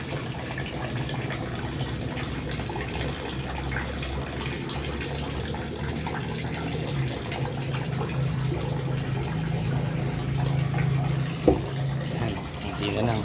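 Water draining from a fishpond on a third floor, a steady continuous rush and trickle of flowing water that holds at an even level throughout, with a faint low hum underneath.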